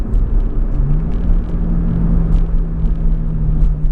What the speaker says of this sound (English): And then the Subaru's FA20 Boxer engine, 2-liter.